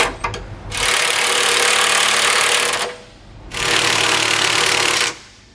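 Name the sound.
tightening bolts with 19mm socket and wrench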